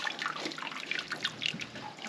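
Splashing, dripping water as a harvested meat chicken is dipped in scalding water to loosen feathers, irregular sloshes and trickles close by with no talking.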